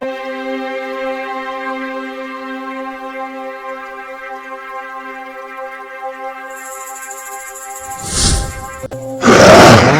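A bear roars on a mountain as a horror film effect: a sustained tonal drone gives way to two loud, rough bursts near the end, the second the heaviest.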